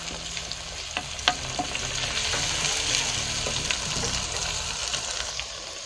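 Tomatoes and green chilies frying in a pan for an amla stew, a steady close sizzle with scattered stirring clicks and spatula scrapes throughout, no talking.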